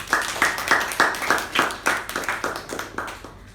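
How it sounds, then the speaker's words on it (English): A small meeting group claps for the emcee in a brisk run of a dozen or so distinct, fairly close hand claps that tail off at the end. "Round of applause for Pavani."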